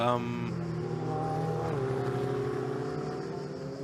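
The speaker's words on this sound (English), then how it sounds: "all the cars filing back out through the Tamburello chicane" Ferrari Challenge race cars filing out through the Tamburello chicane at Imola during qualifying, engines droning and shifting pitch as they pass, heard under continuous commentary.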